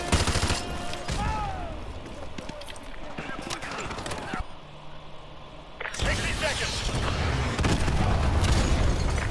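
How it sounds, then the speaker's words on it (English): Heavy missile strikes and explosions crash down during a modern military battle in Modern Warfare 2 Remastered, with dense loud booms and gunfire roaring throughout, a brief quieter lull midway, and radio voices talking over the din. "AGM missiles online"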